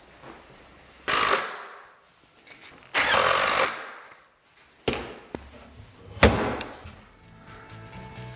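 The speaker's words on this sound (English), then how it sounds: "Let me just grab a couple hinges real quick and we'll mount those." Cabinet door hinges being mounted with hand and power tools: several loud bursts of drilling or driving, each a second or so long, separated by clunks, knocks and a sharp bang, close by in a quiet workshop.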